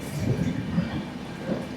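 A train rumbles through a tunnel on the Araku line, a low continuous roar with faint clatter, heard from on board.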